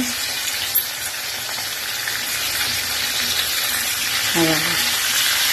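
Bangda mackerel fish fries in a pan with curry leaves, a steady loud crackling sizzle throughout, a brief faint voice near the end.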